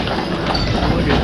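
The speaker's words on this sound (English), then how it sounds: "That's how they deliver everything on this island, is by these horse-drawn trailers." Steady clip-clop of horse hooves on pavement, close by, from horse-drawn trailers on Mackinac Island, Michigan, with a continuous busy background of street noise.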